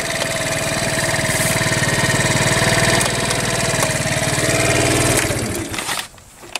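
A 2017 50cc sport scooter fitted with a big bore kit idles steadily with its battery disconnected, a loud, continuous engine chug running close by for most of the stretch before cutting off near the end.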